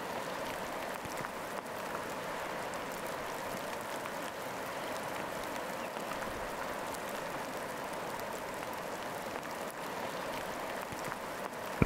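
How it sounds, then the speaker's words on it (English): Steady rain falls on leaves in a forest, a soft constant patter and hiss that runs evenly throughout with no voices. "The sound of rain on leaves is a gentle percussion"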